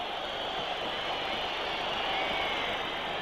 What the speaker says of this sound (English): Whistles from the crowd.